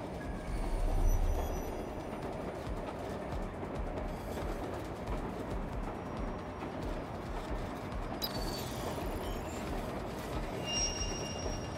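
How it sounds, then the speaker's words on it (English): A runaway train in the video game Watch Dogs Legion rumbles along with a dense, steady rolling roar and faint metallic wheel squeals, no talking over it. "stop the runaway train"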